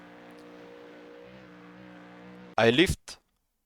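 A Ford Mustang GT3 engine held at full throttle in third gear in iRacing at the Nürburgring Nordschleife: a steady, buzzing harmonic drone for a couple of seconds, then cut off by a loud burst of voice.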